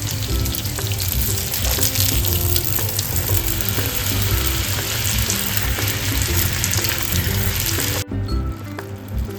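Hand-rolled bhatura hit hot oil for a chana masala meal, setting off a loud, dense, continuous sizzle and bubbling that fills the whole stretch, dipping briefly near the end before resuming.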